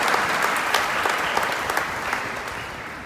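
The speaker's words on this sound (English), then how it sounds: "Another round of applause for the St. Catherine Steel Band." Audience applause for a steel band at a lecture event on the constitution of Belize, steady dense clapping throughout, loud and close, easing slightly toward the end with no talk.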